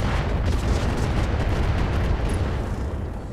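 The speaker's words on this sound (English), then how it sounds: "I'm going to drop two quad missiles on him." Missile strikes hammer a mech in the Roguetech video game, a continuous loud rumbling barrage of booming impacts that holds steady for the whole stretch with no gaps.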